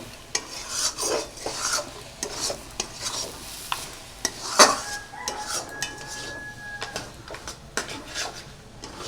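Taro leaves cooking with rohu fish head are stirred in a pan, repeated scraping and clanking of a utensil against metal over a soft sizzle, close and irregular for several seconds.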